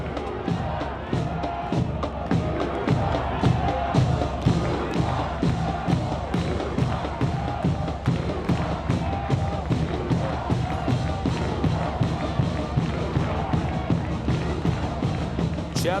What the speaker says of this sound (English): The crowd noisy in Fort Finley.